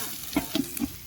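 Onions, green chillies and tomatoes sautéing in a pot for a village-style biryani cooked outdoors: a soft sizzle under three quick scraping stir strokes, close by, with no voices.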